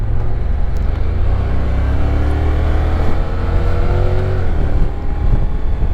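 Honda NC750X DCT motorcycle heard on the move, a steady loud engine drone and wind rush with a rising harmonic as it gathers speed to overtake, no voices.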